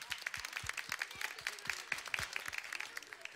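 Studio audience applause sending off a guest on a Turkish folk music broadcast: a fairly quiet, rhythmic patter of claps from a small group, steady throughout.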